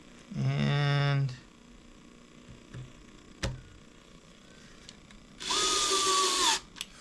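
A power drill drives small machine screws into plastic during an off-road Meshtastic radio build, two short whining bursts separated by quiet handling clicks, close and clear with no talk.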